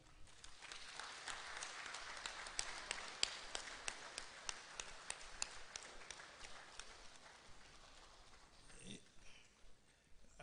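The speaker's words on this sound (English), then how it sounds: "please give him a big clap" Sustained audience applause at a book launch, with a dense, steady patter of clapping for several seconds, fading out near the end as a voice begins.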